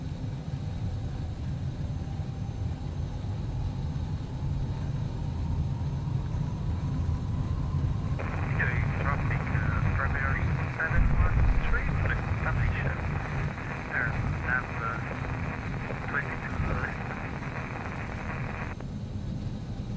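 Twin jet engines of an X-Crafts E145 regional jet in X-Plane 11 rise to full takeoff thrust, a steady loud roar with a climbing whine, as a voice talks briefly over it.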